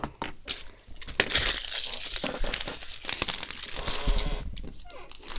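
Plastic waste is crumpled and crinkled by hand indoors, a close, continuous rustling crackle lasting several seconds with a brief pause near the start.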